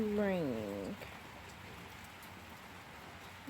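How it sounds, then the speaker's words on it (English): Indoors during a thunderstorm, rain patters and leaks through the roof as a soft, steady hiss. A brief high voice sounds over it at the start. "See, it is raining. And that's leaking."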